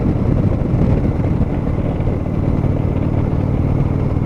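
A 2019 Indian Chieftain Dark Horse motorcycle on a test ride, its engine a loud, steady low rumble blended with heavy wind buffeting throughout, with no talk.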